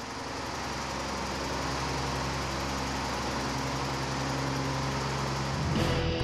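A steady engine drones and rumbles close by throughout, with a slight rise and shift near the end.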